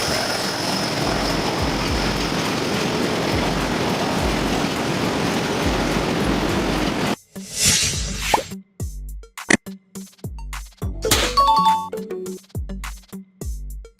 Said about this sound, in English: A train powered by diesel engines, known for strong torque reliability and the ability to operate on non-electrified tracks.